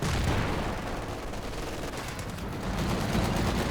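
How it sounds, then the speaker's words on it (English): A Sherman tank attacks an anti-tank gun in the Company of Heroes 2 video game, a dense, sustained rumble of battle gunfire and booming blasts that stays loud throughout with no voices. "we got Sherman attacking the anti-tank and trying to clear it out"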